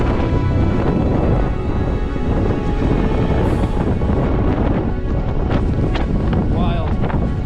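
Strong wind buffeting a microphone on an exposed fell hillside, a loud continuous roar with gusty rumble, and faint voices in the background.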